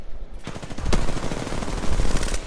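Automatic gunfire in the video game Apex Legends, rapid and loud, rattles almost continuously after a brief quiet start.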